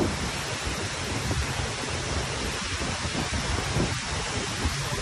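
Heavy typhoon rain and wind from Typhoon Carina at Dolomite Beach on Manila Bay, a dense, steady roar of downpour and gusts that fills the whole stretch without letup.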